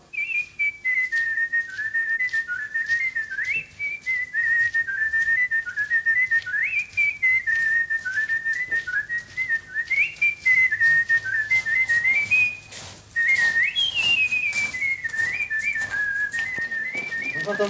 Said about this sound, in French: pour donner le courage à mes copains, je siffle une chanson